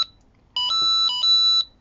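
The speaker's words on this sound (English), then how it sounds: "it sets the alarm off" A micro:bit motion alarm sounds when the board is moved: a short electronic beep, then a bright, steady two-tone warble that repeats in quick pulses, loud and close, with a soft click beneath.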